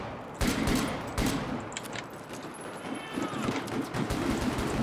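Gunfire from a video game shooter featuring the Unica 6 revolver, with sharp repeated shots over a busy game soundscape and mechanical clicks that fit a revolver reload, no speech.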